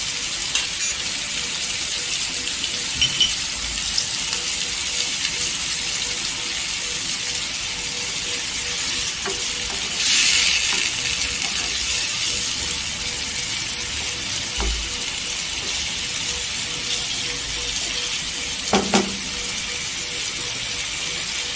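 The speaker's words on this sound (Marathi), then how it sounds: "इथे अद्रक लसूणची पेस्ट टाकायची 1 चमचा," A spoonful of ginger garlic paste sizzling in hot oil, a continuous hissing fry with occasional clinks and scrapes of a utensil against the pan.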